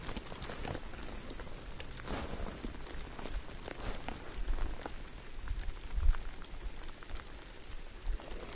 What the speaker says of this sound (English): It is now raining quite consistently.